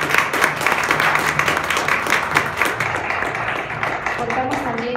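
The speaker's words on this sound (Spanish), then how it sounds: "brindémosle un fuerte aplauso" A crowd claps steadily in a dense wash of applause that gradually thins out, with voices faintly mixed in.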